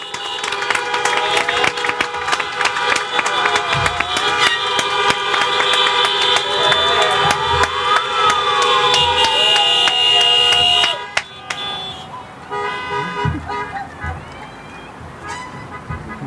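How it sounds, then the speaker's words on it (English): Many car horns honk together at a high school graduation in a loud, overlapping chorus with some cheering mixed in, then the honking drops off to a few scattered toots. "Let's get some cars honking out here."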